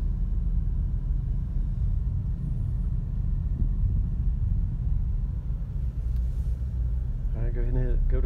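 Steady low car engine rumble fills the whole stretch while a learner practises shifting a manual transmission, with an instructor talking over it and a brief vehicle-like tone near the end.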